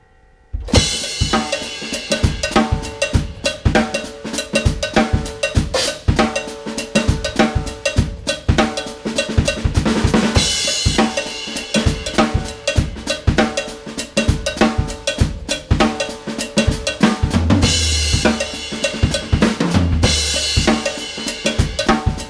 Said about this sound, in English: show you some of the kind of fills and combinations of these extra little ghost notes that you can add in